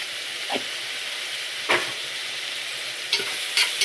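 Steady sizzling of tomatoes sautéing in a pan with turmeric and chili powder, with a few soft stirring scrapes and clicks scattered through the hiss.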